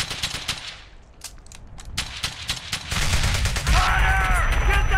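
A German MG nests in Brothers in Arms: Hell's Highway, a World War II game, rattling off rapid bursts of fire. The shots come close and loud, thickening into a dense, sustained volley near the end, with some game noise underneath.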